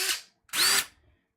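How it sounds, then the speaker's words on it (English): A DeWalt cordless drill whirs in two short bursts, the second louder with a rising whine, separated by a brief silence. "I got an impact driver and a drill."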